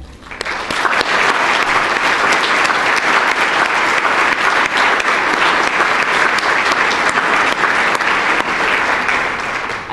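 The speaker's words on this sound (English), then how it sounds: "We can give another round of applause to all of our volunteers today." Sustained applause from a large audience at a volunteer breakfast, dense steady clapping that starts quickly and holds evenly at full strength for the whole stretch, with no voices rising above it.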